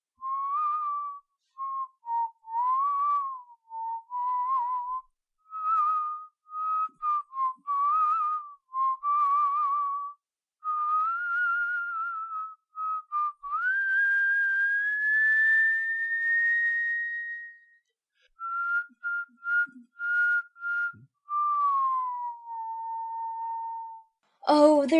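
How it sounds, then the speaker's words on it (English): A person whistles a wandering tune in short phrases and longer sliding notes, clear and close, with brief gaps between phrases. "and began whistling"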